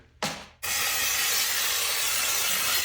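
Brake cleaner sprays from an aerosol can onto an oil catch pan during a 2012 Hyundai Accent oil change: a short hiss burst, then a loud, steady, continuous spray hiss running to the end, with no talk.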